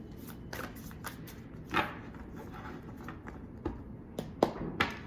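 Tarot cards being shuffled, with soft riffling bursts and crisp taps and slaps of the deck coming intermittently at close range in a quiet room.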